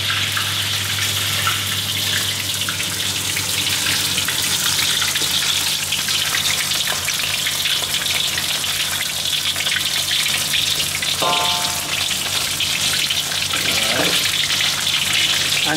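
Fish frying in hot oil in a pan until crispy brown for sweet and sour fish, a loud, steady, dense sizzle and crackle that continues unbroken throughout, with no talking.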